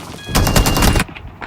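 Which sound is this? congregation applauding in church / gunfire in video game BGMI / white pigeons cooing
gunfire in video game BGMI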